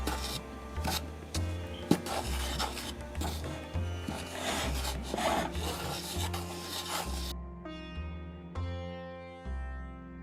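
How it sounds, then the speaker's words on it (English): A utensil scrapes and rasps steadily through flour being stirred in a small pot for parsad, the rubbing strokes repeating in an even rhythm with a faint scraping texture throughout. "I'm just going to keep stirring."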